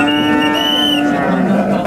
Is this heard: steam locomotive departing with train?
no